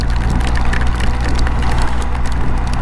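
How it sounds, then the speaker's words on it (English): Heavy rain pours steadily in a dense, loud wash, with roaring wind and engine rumble underneath, while riding a BMW R1250 motorcycle through a storm near the Columbia Icefield and Storm Mountain in Canada. "we seem to have been in this downpour now, and this is a pretty heavy one"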